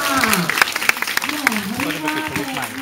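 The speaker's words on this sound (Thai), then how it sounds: "ขอเสียงปรบมือให้กับโชว์แรกของเราด้วยค่ะ" Audience clapping after the first children's show at a Krungsri event in Kanchanaburi, with a woman host's voice speaking over the steady, moderately loud applause.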